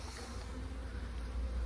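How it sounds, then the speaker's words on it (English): Honey bees buzz inside a nucleus box with a laying queen, a steady low drone heard close and alone, with no voices. "There's bees in the box."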